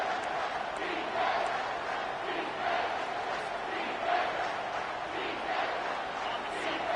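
A loud stadium crowd roars in a College Football 25 video game, a continuous swelling din with rhythmic surges like chanting, filling the whole stretch.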